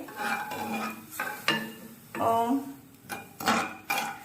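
Spoon stirring sugar into traditional shevla kheer in a pot, a few distinct scraping and clinking strokes against the metal, spaced irregularly and fairly close.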